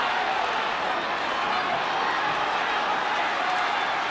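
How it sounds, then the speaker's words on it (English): A big crowd roars and chants at a 1982 rugby league semi-final between Eastern Suburbs and Western Suburbs, a dense continuous wall of voices, loud and steady throughout. "the crowd setting up a hell of a chant"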